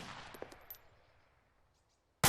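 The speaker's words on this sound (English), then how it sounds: "These rates using a rifle are rapid, where you place a shot every second" Rifle shots at a rapid rate: a shot's decaying echo and a few faint cracks trail off into near silence, then a sudden loud, sharp report hits at the end.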